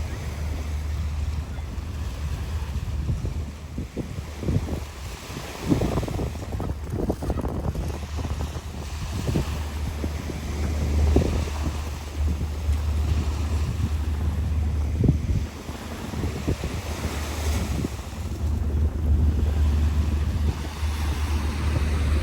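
Strong wind buffeting the microphone over the continuous rush and roar of surf waves breaking on a beach in Pattaya, Thailand, loud and sustained throughout.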